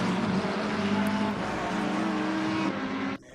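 A race car sweeps past at Spa-Francorchamps during a six-hour sim race, its engine a loud sustained roar with shifting pitch that cuts off abruptly near the end.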